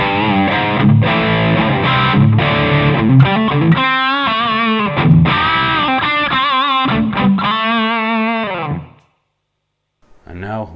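An electric guitar through a distortion pedal plays a bright, gritty rock chord riff with plenty of high end and sustain, then cuts off briefly before starting again.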